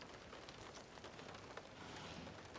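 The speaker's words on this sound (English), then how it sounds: "It's raining pretty hard" Heavy rain falls outside around a 2023 Toyota Sienna, a dense steady hiss of drops hitting surfaces, faint and unbroken throughout with no talk.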